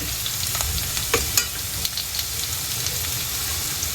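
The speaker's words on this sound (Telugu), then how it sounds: "పచ్చిమిర్చి, వెల్లుల్లి వేసాను. అండ్ అవి కొంచెం వేగిన తర్వాత కడిగి పెట్టుకున్న కొబ్బరి కట్ చేసేసి యాడ్ చేసేస్తున్నా." Green chillies, garlic and chopped coconut fry in a pan, giving a steady soft sizzle with a few faint pops and stirring sounds throughout, no voices.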